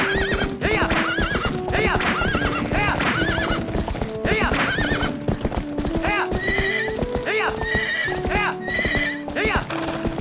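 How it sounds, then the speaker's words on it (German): Horses in Zelda Twilight Princess HD trot with rapid hoof clip-clops while repeated whinnies and neighs ring out over them, loud and close, forming a busy herd sound throughout. "ob das Pferd auf den Grashalm reagiert"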